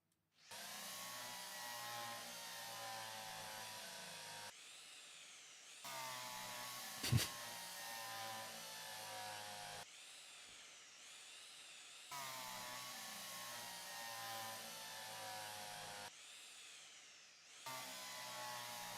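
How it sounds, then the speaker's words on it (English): An electric drill whines in long bursts of several seconds each, pitch sagging as it bites into material and rising as it eases off, near and loud, with brief quiet pauses between bursts and a sharp knock midway. "Let's drill that in."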